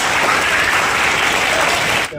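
An audience at a Shiv Sena women's wing school event bursts into dense, sustained applause for Shilpatai Chavan, loud and close, tapering off at the very end.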